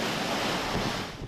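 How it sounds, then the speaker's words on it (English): Huge waves lash the shore during Typhoon Usagi as a No. 8 signal is up, a dense continuous roar of surf mixed with strong wind buffeting the microphone. "Huge waves lashed the shore"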